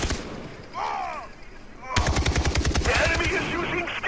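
Rapid automatic gunfire rattles close and loud in Far Cry 3 multiplayer, a brief whooshing effect coming before a sustained burst of rhythmic shots that fills the second half.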